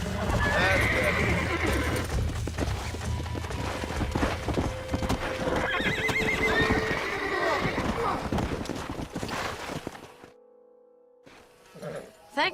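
Horses in the Red Dead Redemption video game whinny loudly and repeatedly while hooves clip-clop close by, with voices talking over them, before the sound drops away and a last brief snort is heard.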